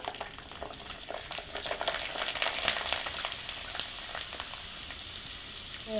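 Garlic frying in about a quarter kilo of oil for a boiled tomato and red chili pickle: a close, steady sizzle dense with crackling pops for the whole stretch, with no talking.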